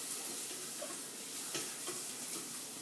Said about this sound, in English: we're gonna get that garlic all cooked through